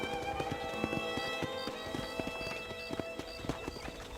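Horse hooves clip-clop steadily in the Red Dead Redemption video game, a regular walking rhythm of close taps over a constant ambient game soundscape with faint tonal music.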